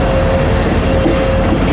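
A coal train rolls west into Hobson Yard in Lincoln, Nebraska, its loud steady rumble filling the air with a constant tonal whine on top and no talking.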